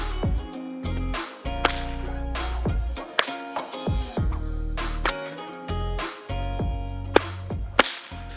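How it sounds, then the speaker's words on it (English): Whips fitted with homemade poppers crack sharply again and again in a quick irregular rhythm, loud and close, each snap ringing out over low background noise. "head out to crack my whips"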